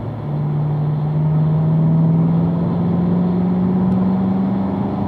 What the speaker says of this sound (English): you guys accelerate and upshift to fourth gear